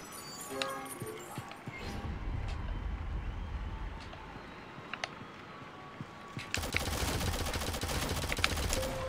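Shotgun gunfire in the Shadowgun Legends shooter game during a 1v1 PvP duel, heavy repeated blasts over dense game noise and background sound that grows louder near the end.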